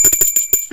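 A bright bell sound effect rings in a quick series of five or six rapid metallic dings, loud and close, with no voices.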